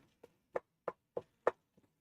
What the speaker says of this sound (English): I'm just kind of chopping it a little bit at a time